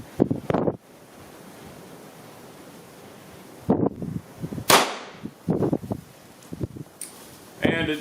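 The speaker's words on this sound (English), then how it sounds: "Let's see if it'll go bang on attempt number 2." A Mossberg MC2sc 9mm pistol fires a single sharp, loud shot in the middle of the stretch, after a second attempt following a dented primer. Handling noises and brief speech-like bursts come before and after the shot.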